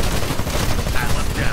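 Constant, loud gunfire from a Titanfall match, a dense unbroken rattle of shots layered with rumbling mech combat noise.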